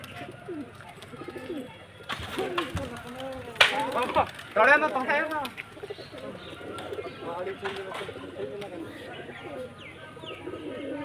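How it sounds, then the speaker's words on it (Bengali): Pigeons coo and croon in a loose, overlapping chorus, fairly close by, with some rustling and other bird calls mixed in and a voice talking faintly. "পায়রাগুলো জোড়া জোড়া করে দেখাবো"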